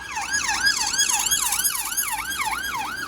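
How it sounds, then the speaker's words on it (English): A police car siren wails past Blackpool Pleasure Beach, a loud rising and falling electronic siren repeating in a steady rhythm over traffic noise, with no voices. "Wait for that noisy police car to go past"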